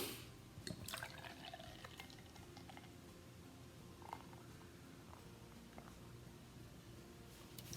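MEIYON lager from Weymarket Brewing is poured into a glass, giving a faint, quiet liquid trickle and fizz against a soft background, with a brief louder splash near the start.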